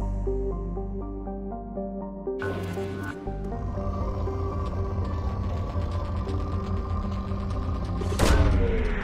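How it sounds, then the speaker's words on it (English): Probe launch sequence in the Mass Effect 2 video game, with a steady mechanical hum giving way to a burst of whirring, ratcheting machinery, a second loud release near the end, and continuous game music underneath. "Launching probe."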